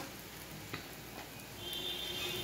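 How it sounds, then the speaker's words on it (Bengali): Rice frying in a pan for khichuri, a soft steady sizzle with a faint scrape partway through, getting slightly louder toward the end. "এই চালটা একটু ভালো করে একটু ভেজে নিয়ে তারপরে আমি মশলা অ্যাড করব"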